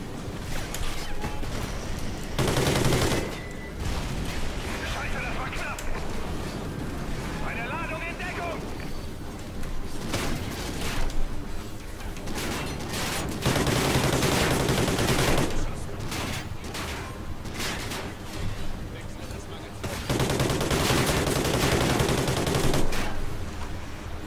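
Heavy gunfire in a Call of Duty Ghosts singleplayer battle, with loud bursts of automatic fire and explosive blasts coming in waves over a steady rumble of combat, while someone talks over it.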